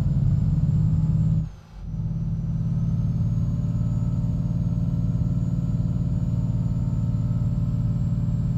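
Truck engine in Euro Truck Simulator 2, a BOB Constellation 19-320 Titan, running at a steady drone with a strong low rumble that dips briefly near the start, then holds constant throughout.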